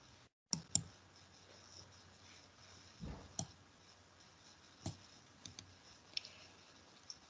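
Computer mouse clicks on a desktop computer, a handful of sharp, irregularly spaced taps over a quiet background hum, heard alone without talk.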